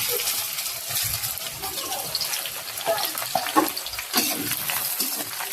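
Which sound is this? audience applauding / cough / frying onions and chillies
frying onions and chillies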